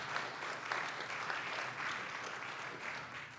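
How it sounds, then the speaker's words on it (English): An audience at a talk about a 1970s mob war gives a brief round of applause for birthdays, a soft, steady patter of many hands heard from a distance, with no speech. "Give them a round of applause."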